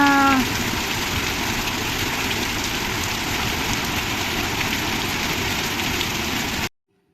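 A heavy monsoon downpour pours down all at once after arriving like smoke, a dense, steady roar of rain on surfaces that holds at full strength before cutting off abruptly at the end, with no talking.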